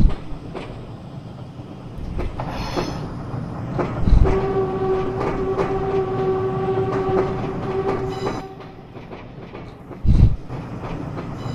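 A faulty 1950s British Rail Class 506 electric train rumbles along steadily with a sustained horn-like tone in the middle and a couple of heavier thumps, no talking.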